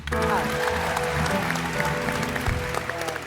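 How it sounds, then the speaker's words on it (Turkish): A television talk-show studio audience applauds for a guest artist, Yasemin Hanım, in a sustained wash of clapping mixed with studio band music, with a host's voice over it. "Yasemin Hanım'a bir alkış"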